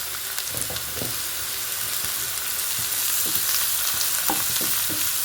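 Turmeric, salt and a pinch of asafoetida roast in a pan over a medium gas flame, giving a steady close sizzle broken by light scraping stirs.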